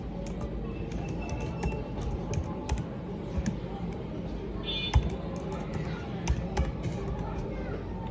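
A file name is typed on a computer keyboard while setting up a new file in Photoshop, with scattered light keystroke clicks, some in quick runs, over a low steady background.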